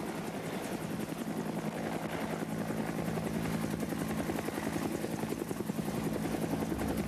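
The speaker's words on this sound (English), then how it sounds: "whether it be a normal helicopter move forward" Helicopter flying during a special operations air move, a steady loud rotor thump with dense engine whine throughout, continuous and close.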